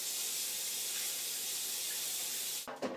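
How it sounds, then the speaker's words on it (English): Steady rinse of running tap water, a continuous broadband splash that holds for nearly three seconds before a brief clatter near the end, with no voices. "And of course, rinse."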